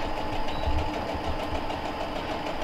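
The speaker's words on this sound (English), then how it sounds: "I'm going to sew again a quarter of an inch" A sewing machine stitches quilt strips at a quarter-inch seam with a steady, even mechanical hum and whir, alone and at close range.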